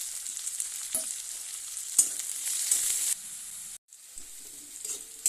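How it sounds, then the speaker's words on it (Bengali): Salted chopped onions fry in a pan of oil, making a loud, close sizzle broken by stirring knocks, with a brief drop to near silence before the hiss resumes. "পেঁয়াজগুলো ভালোভাবে ভাজা হয়ে গেছে ভালো করে"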